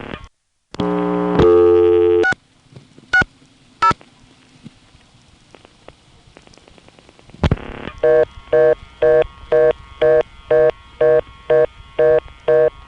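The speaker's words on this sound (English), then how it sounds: "Not the immediate reorder of the dial tone timeout, but the blocked level reorder" Telephone line tones from a step-by-step telephone exchange: a burst of dialing beeps and clicks, then a blocked-level reorder tone, a repeating rapid on-off pattern pulsing steadily to the end.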